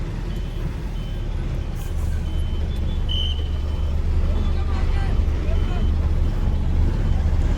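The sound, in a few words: auto rickshaw driving on the road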